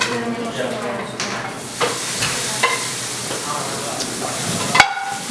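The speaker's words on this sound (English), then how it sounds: "you want them to sizzle a little bit" Small pieces of meat sizzle in a hot pan for a Southwestern bibimbap, a steady frying hiss broken by the scrape and clatter of a spatula stirring, fairly close and continuous.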